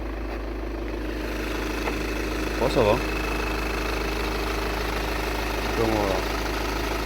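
Volkswagen Golf 6 GTD's 2.0-litre 170 hp diesel engine idles steadily with a low, even drone under the open hood, while someone speaks briefly in French near the microphone.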